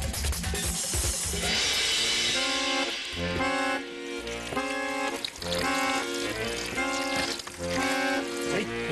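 Water is poured out in a continuous splashing rush over a wild outdoor scene, loud and near, with layered music playing throughout.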